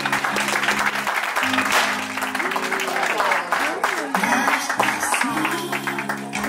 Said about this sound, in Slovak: Poprosím vás, veľký potlesk.